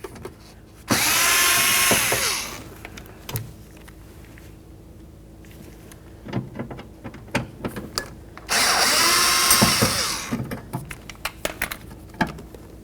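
A power drill backs out two Phillips head screws from a door bracket on a 2003–2007 Honda Accord, with two loud whirring bursts separated by clicks and handling clatter.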